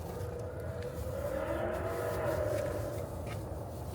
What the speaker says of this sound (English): What car is that? A Mustang?